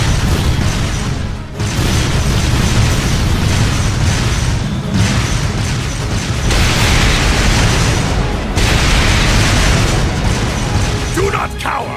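Artillery barrage in the video game Trails of Cold Steel II, a dense, loud, continuous roar of rumbling explosions and booms with brief dips, and no speech heard through it.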